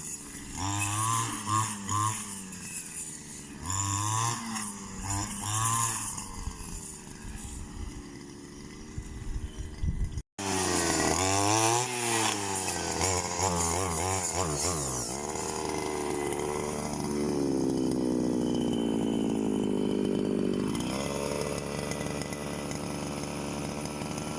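A grass cutter fitted with a thick blade runs steadily with a loud, buzzing two-stroke engine whine, revving up and down in strong surges, cutting out briefly near the middle, then restarting and holding a sustained high drone.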